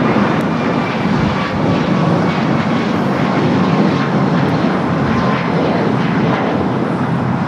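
An airliner rolls for takeoff on runway 25 right at LAX, its engines producing a steady, loud, broad roar that holds without letup from start to finish.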